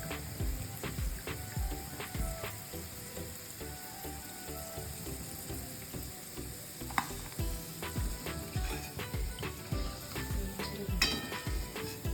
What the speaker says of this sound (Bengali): এভাবে আমি গোল্ডেন ব্রাউন করে কুরকুরে করে ভেজে নিলাম।